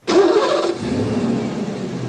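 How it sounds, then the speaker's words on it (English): A battered, nondescript car engine cranks and catches with a loud roar, then settles into a steady revving idle, close and alone for about two seconds. "His car, battered and nondescript, cranked to life with a mega-horse roar."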